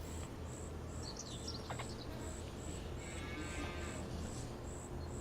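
Cattle mooing in the Farming Simulator 25 video game, a barn of about thirty cows, heard as a couple of brief low calls over a steady hum of ambient farm noise and a regular high chirping tone.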